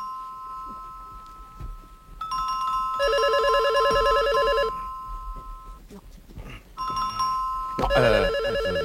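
A telephone rings in repeated electronic bursts while a doorbell chimes, loud and nearby in a room, with scattered speech between the rings.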